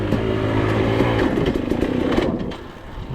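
A hot trail bike's motorcycle engine revs hard and loud up close on a single-track trail, its rough throbbing rising and falling with clattering mechanical noise before easing slightly near the end.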